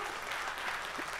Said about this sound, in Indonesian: Tepuk tangan buat teman kita nih.